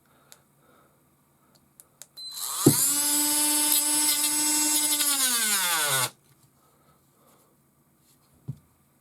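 A Parkside cordless rotary tool runs on its low setting, starting with a sharp spin-up and holding a steady high-pitched whine for about four seconds before cutting off abruptly, with quiet clicks before and after.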